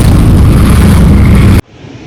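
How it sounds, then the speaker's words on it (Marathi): Riding in an auto rickshaw on the way to Nagaon near Alibag gives a loud, continuous, wind-buffeted rumble and roar that fills the space, then cuts off abruptly to a much quieter, hollow background. "आम्ही रिक्षामध्ये बसतोय आता"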